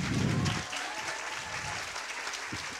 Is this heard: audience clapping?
yes